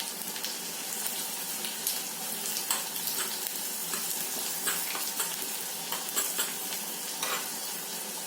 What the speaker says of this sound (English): Once the oil is hot, I'll add in the chopped onions.